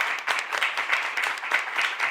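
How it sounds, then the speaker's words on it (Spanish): An audience applauds a guest at a literature and film panel during a festival, a short burst of brisk, fairly close clapping with uneven rhythm. "Un abrazo y un aplauso a nuestro invitado."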